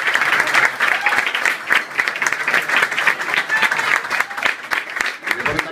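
Steady, dense applause from a crowd at a basketball trophy presentation, many hands clapping together for several seconds, fairly loud and close, with a voice speaking over it.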